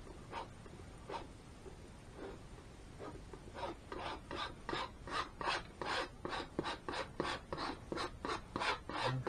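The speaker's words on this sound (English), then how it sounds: "Scrape it right off." Palette knife scraping excess oil paint off a canvas, a run of soft rasping strokes that starts sparse and speeds into quick rhythmic scrapes, close and fairly quiet.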